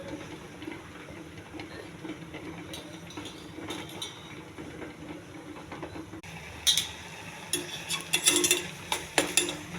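A spoon stirs red rice cooking in a pot, making a continuous low scraping and bubbling. Sharper, louder clatters of the spoon against the metal come in the second half, with no voices.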